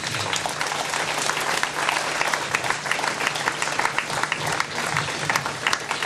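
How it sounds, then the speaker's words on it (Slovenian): Steady, dense audience applause at a homecoming event welcoming back a long-distance cyclist, many hands clapping continuously and fairly loud throughout, with no talk over it. "Dajmo na aplavz."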